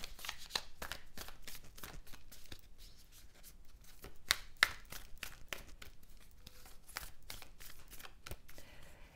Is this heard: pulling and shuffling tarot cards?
yes